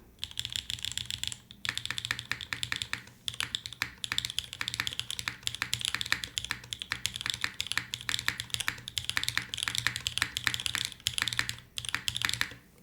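Rapid, steady mechanical keyboard typing, crisp clacky keystrokes in a continuous stream with a brief pause, close and moderately quiet.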